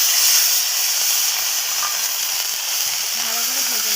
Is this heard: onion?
yes